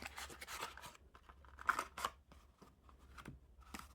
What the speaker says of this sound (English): Take the cards out of the box.